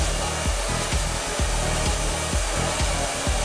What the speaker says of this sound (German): dass wir das Haar dann komplett trocknen.